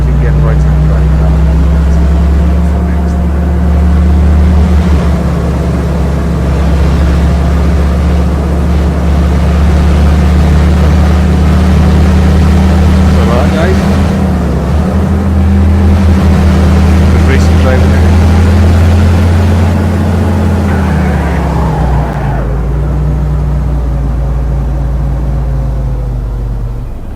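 Steady engine drone of a left-hand-drive car in Car Driving Simulator, a low hum holding level for most of the drive before dipping briefly near the end, with a voice talking over it.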